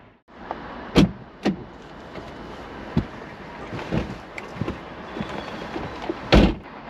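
Several sharp clunks and knocks ring out close by over a steady background hum, a Mercedes-Benz E300 Coupé's exterior door handle and latch being worked to open the door from outside.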